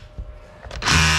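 A Makita hammer drill kicks into hammer mode after a few faint clicks, bursting into a loud, harsh rattling whir that holds steady to the end.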